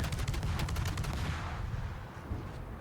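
Naval gunfire from a Lepanto warship in World of Warships booms out as a rumbling salvo, with rapid overlapping blasts that roll and fade over a few seconds.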